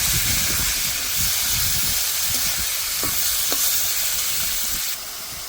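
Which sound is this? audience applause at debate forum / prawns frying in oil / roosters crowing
prawns frying in oil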